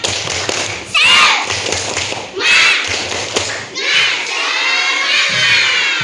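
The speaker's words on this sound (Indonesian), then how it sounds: "Tepuk semangat." Fourth-grade pupils in a primary school classroom perform a clapping chant, loud bursts of unison claps and thumps alternating with children's shouted voices in three waves, the last a sustained cheer.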